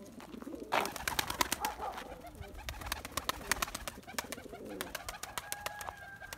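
Young pigeons cooing during flight training, soft repeated coos with a sudden burst of wing flapping early on and a rapid clatter of wingbeats throughout, fairly faint and close, with no speech.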